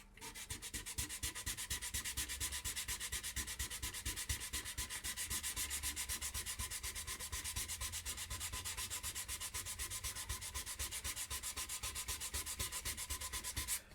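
Hand sanding of wood with 400 grit sandpaper during guitar building, a steady rapid back-and-forth scratching that runs continuously and close throughout, with no talking.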